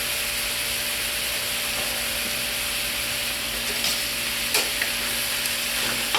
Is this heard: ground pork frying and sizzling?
yes